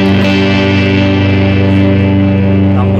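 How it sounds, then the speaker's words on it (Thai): A clean, undistorted electric guitar tone from a Line 6 POD Go amp simulation rings out with sustained chord notes and a touch of echo, steady and fairly loud with no voices. "อันนี้มันเป็นไม่ใช่เสียงแตกครับเป็นแอมตัวปกติ"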